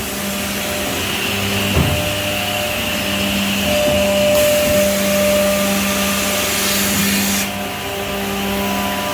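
A Hyundai Sanghi edging machine runs steadily in a woodworking shop, a loud continuous motor drone with a broad hiss and a few brief knocks, no talking.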